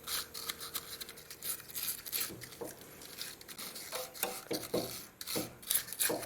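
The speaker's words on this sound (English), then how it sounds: "I didn't really wire brush my caliper, so just give it a quick" Wire brush scrubbed over a Honda Jazz 2005 front brake caliper to clear dust, dirt and corrosion, quiet scratchy bursts of brushing in irregular short strokes, close and soft with no talking.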